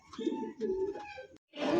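Satin pigeons coo close by in a few rolling, throaty phrases, broken by a short silence before a rougher burst of sound at the end.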